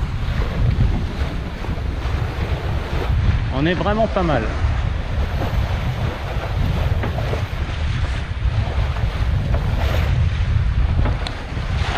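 Figaro sailboat off Royan driving quickly through waves in light wind, with steady broadband wind and water rush filling the whole stretch; a brief voice speaks over it partway through.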